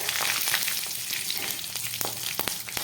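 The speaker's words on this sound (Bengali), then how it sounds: "একটা তেজপাতা দিয়ে দিচ্ছি আর দিয়ে দিচ্ছি একটু পাঁচফোড়ন দিয়ে দিচ্ছি দুটো কাঁচা লঙ্কা" A bay leaf, five-spice seeds and two green chillies fry in hot oil, making a loud, dense, crackling sizzle close up, with a few sharp pops and spoon taps breaking through.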